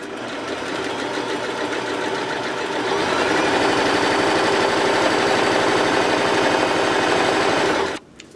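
Sewing machine stitching fabric while piecing a half square triangle quilt block, a fast steady mechanical whir that speeds up partway through, close and continuous, then stops abruptly.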